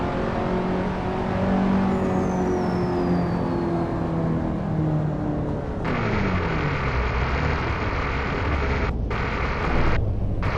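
Race car engine in the Assetto Corsa PC racing simulator revving hard, with a loud sustained roar and rising pitch, a brief shift-like break around the middle, then continued high revving with short cuts, close and constant.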